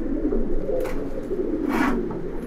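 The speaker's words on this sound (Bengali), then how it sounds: "দেখেন আমার কালদমগুলো দেখে পুরো মাথা নষ্ট হয়ে যেতেছে। এইগুলা কিন্তু খাঁচা ছাড়া কবুতর" Kaldam pigeons coo softly at a pigeon farm, low murmuring calls blending into a steady rumble of many birds, with a couple of brief wing flutters or sharper sounds rising above them nearby.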